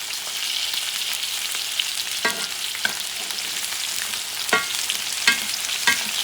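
Garlic and thyme caramelizing in a hot pan sizzle steadily and loudly, punctuated by several scattered light clicks and scrapes of a spoon against the pan.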